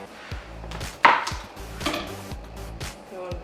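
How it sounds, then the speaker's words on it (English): A knife slicing salami on a cutting board in a home kitchen, several close, uneven chopping thuds and taps. "the next thing we're gonna do is cut up the salami"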